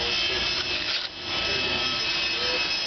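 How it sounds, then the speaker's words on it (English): Steady, continuous sanding of a Corian countertop with sandpaper to remove scratches, a close, even abrasive hiss with slight strokes in rhythm. "And with me still sanding a little bit more on that"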